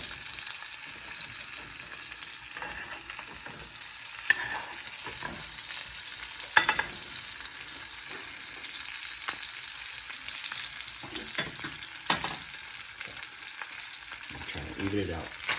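A flounder fillet fries in butter in a pan, giving a steady bright sizzle with crackles and occasional sharp pops and spatters, close and continuous with no talking.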